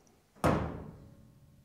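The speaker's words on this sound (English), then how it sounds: "Just close the door." The door of a 19-inch AV rack cabinet on small pull hinges swings shut with a single soft thunk and a short ringing decay, close by and fairly quiet.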